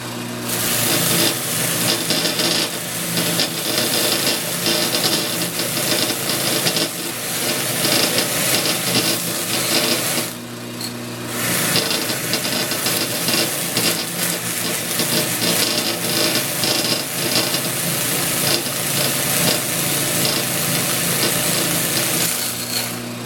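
A sand flea power sander buzzes continuously and loudly up close, grinding against wood edges with a brief dip partway through before resuming its steady whine.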